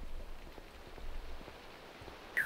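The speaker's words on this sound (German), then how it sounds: "Ah, das regnet." Rain in a Minecraft Pixelmon game, a soft continuous patter of raindrops at low volume with no talking, ending in a short brighter sound.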